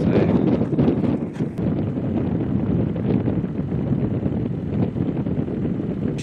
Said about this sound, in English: So, new spot, really, really windy, I would say.